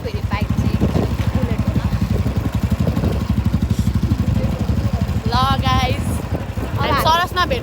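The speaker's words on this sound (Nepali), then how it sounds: "फेरि बाइक चाहिँ बुलेट होला" A Royal Enfield Bullet motorcycle engine thumps in a steady, rapid low pulse throughout, running close by while people talk over it.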